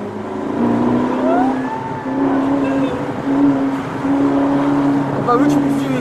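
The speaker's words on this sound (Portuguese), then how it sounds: "É barulho de carro de Fórmula 1, ó." A Formula 1 car engine whines and revs at high pitch, rising and falling as it passes at a distance, with people chatting over it.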